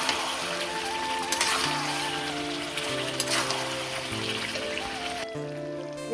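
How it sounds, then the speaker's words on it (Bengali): Chicken pieces go into hot oil in a pan for a Bengali chicken curry, giving a steady broadband sizzle that holds at an even loudness throughout, with faint background music tones and no voices. "এবারে দিয়ে দেবো চিকেনটা, দিয়ে দেবো।"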